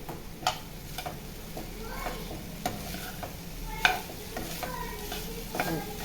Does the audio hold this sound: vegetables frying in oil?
yes